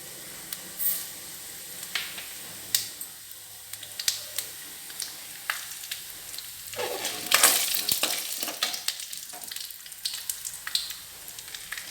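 Cumin seeds sizzle and crackle in hot oil for about twelve seconds, with a steady frying hiss broken by sharp pops and occasional stirring clatter, the spitting heaviest near the middle; no one speaks.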